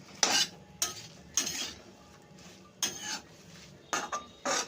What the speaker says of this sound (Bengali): এবার একটু ভালো করে নাড়াচাড়া দিয়ে নিই।